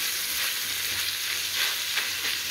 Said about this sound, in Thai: เวลาเราทอดแล้วมันจะกระเด็นจ้ะ